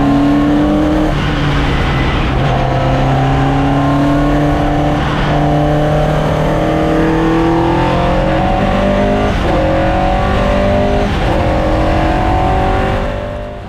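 A race car's engine roars continuously on a track, loud and close, its harmonic drone rising and falling as the throttle is worked and gears shift, with no voices over it.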